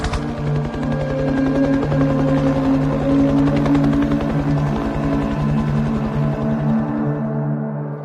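The steady rotor thump and engine drone of attack helicopters, loud and close, holding constant before easing off at the end.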